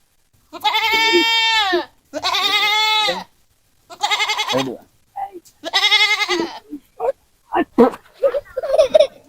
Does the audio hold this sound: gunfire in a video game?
no